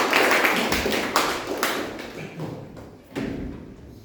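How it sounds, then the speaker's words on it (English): A small audience at a Toastmasters club meeting claps with sparse, uneven hand claps and thuds. The clapping is close and fades gradually, then gets a final brief burst. "Let's have a big round of applause."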